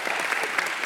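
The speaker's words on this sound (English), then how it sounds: "Just another round of applause for Jeannie." An indoor audience at a panel discussion on park design gives a brief burst of dense, steady clapping, close and even in level throughout.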